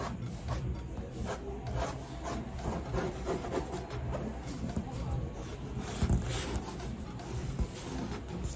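Pen or marker scratching and rubbing across fabric laid over pattern paper, marking a half-inch seam allowance for a cap; soft, quiet rasping strokes repeated close up.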